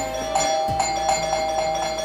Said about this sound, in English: Do you hear the bell?